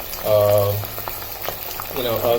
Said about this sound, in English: So you're going to put it on a high flame and you're going to fry this out.